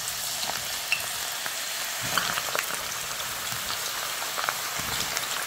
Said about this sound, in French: Et là, je vais rajouter mes frites à l'intérieur.